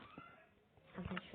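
A cat in the video game Minecraft gives a few short meows near the end, with someone talking beneath and around them.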